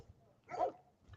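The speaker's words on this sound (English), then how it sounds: "Man, that dog is fucking possessed." A dog gives a single sharp bark at close range, a brief loud burst with faint quieter noises before and after it.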